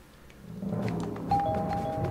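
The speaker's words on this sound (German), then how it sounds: "Hör auf, Luigi, ich will nicht klingeln" A doorbell chime sounds in a Mario video game, a bright sustained ring entering partway through over a low background hum, with no talking over it.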